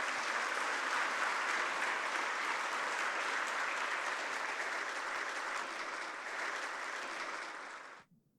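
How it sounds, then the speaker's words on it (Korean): A church congregation at a Sunday worship service claps together in warm, sustained applause to welcome the pastor, steady for about eight seconds before cutting off sharply. "우리 같이 축복하면서 같이 박수로 모시도록 하겠습니다."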